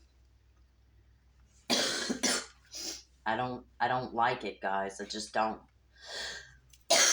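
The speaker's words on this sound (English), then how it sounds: "the one thing that usually lingers is the cough" A person with a lingering cough after being sick coughs a few times early on, harsh bursts close to the mic, then speaks in a quiet room.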